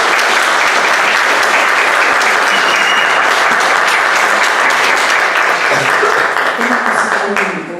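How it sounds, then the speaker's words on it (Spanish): A large audience gives sustained, loud, dense applause to welcome a speaker to a keynote lecture, continuing steadily before easing off at the end. "Recibamos con un aplauso a la doctora."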